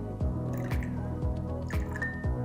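Drops of high-pH alkaline water fall one after another into a small container of liquid, five soft, regular drips about half a second apart, close and fairly quiet with a faint bubbly tail after each.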